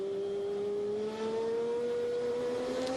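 Race car engine accelerating in the rain on a wet, puddled track during the 24-hour endurance race at Daytona, a loud, steady rising engine note held close for the whole stretch with no talk over it.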